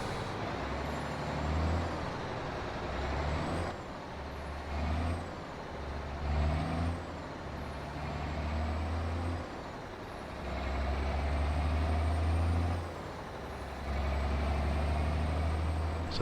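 Mack R truck with a small 280-horsepower engine pulling an old rusty Fruehauf trailer with a 14-ton load in American Truck Simulator, a steady low diesel drone that swells and dips with throttle, punctuated by brief air-brake hisses.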